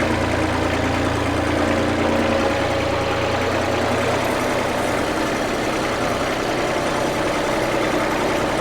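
A tractor engine idles close by on a farm at garlic planting, in a steady, low, continuous rumble that holds for the whole stretch, with no voices.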